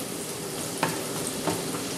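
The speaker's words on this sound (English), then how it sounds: "I'm going to saute this garlic just when it starts to get going." Garlic sautéing in a pan for chicken and mushroom spinach Alfredo, a close, steady hiss of frying with a couple of brief stirring clicks.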